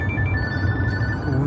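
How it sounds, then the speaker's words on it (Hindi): A telephone rings with a steady electronic tone inside a busy plaza, sounding over a dense background rumble of voices and ambient noise. "फोन आ गया"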